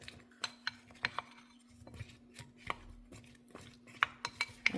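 Scallion and cucumber being tossed together in a bowl, with scattered clinks and taps of utensil against dish at an irregular rhythm over a steady low hum.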